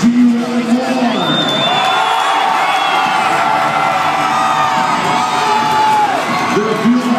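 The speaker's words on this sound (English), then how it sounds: "They're fueled by your applause. You guys set the pace." A large Monster Jam arena crowd roars and cheers at a dirt bike show, sustained whoops and shouts from many voices rising and falling in a loud, continuous wash with clapping mixed in.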